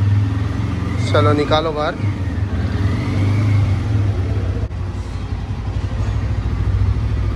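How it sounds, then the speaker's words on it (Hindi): A new Bajaj motorcycle's engine fires up and idles steadily in a low, continuous rumble, with a brief rev near the start; people talk over it, close by, at a dealership in Panvel. "यो गाड़ी की फायरिंग सुनो, क्या बात है, बहुत बढ़िया फायरिंग आ रही है।"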